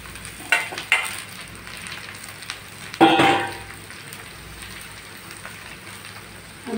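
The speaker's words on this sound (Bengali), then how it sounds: "এখন আমি কুচি কুচি করে কেটে রাখা পটলগুলো দিয়ে দিচ্ছি পেঁয়াজের ভিতরে।" Finely chopped pointed gourd is tipped into lightly fried onions in a pan, giving a soft, continuous sizzle with a few small pops and one brief, louder burst of crackling midway.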